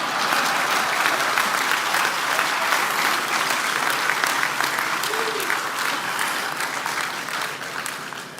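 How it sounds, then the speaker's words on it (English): An audience at a shipbuilding groundbreaking ceremony applauds steadily, a dense, even clapping that carries on for the whole stretch and tapers slightly at the end. "Y'all can clap for that if y'all want to."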